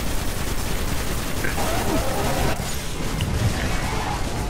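Continuous loud gunfire in a video game, a dense, unbroken rattle of shots with a brief dip partway through and a few faint voice fragments underneath.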